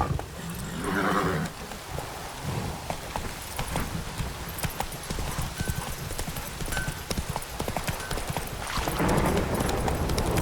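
Roach, the horse in The Witcher 3, gallops with rapid rhythmic clip-clopping hooves that run the whole time. A snort or whinny cuts in near the start, over rain and game ambience.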